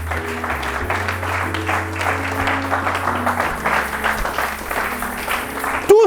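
Congregation applauding in a church during a sermon, a steady, dense wash of clapping that fills the space throughout, with organ or keyboard tones held underneath and a brief louder burst at the end.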